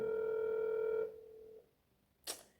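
A telephone ringback tone sounds as a steady electronic buzz on a call for about a second, followed by quiet and a brief click near the end.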